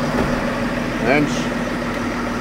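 A Fendt 930 Vario tractor engine idles steadily with a low, even hum throughout, rising briefly mid-clip, while people talk nearby.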